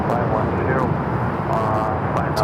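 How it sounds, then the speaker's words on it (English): Air New Zealand Boeing 777-300ER widebody jet on arrival at Los Angeles airport, its engines a steady broadband roar with some voice-like chatter mixed in throughout. "Air New Zealand Flight 6 coming in from Auckland on the 777 300 ER."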